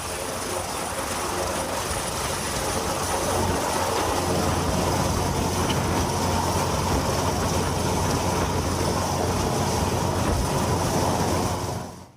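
An Indonesian Air Force (TNI AU) military helicopter carrying 1,500 kg of disaster aid to Agam gives a loud, steady engine and rotor roar that holds for the whole stretch, with no voices, before cutting off at the end.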